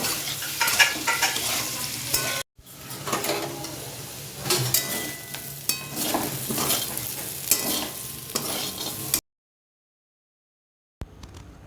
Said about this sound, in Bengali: আলুর পিসগুলো ভাজা হয়ে গেছে,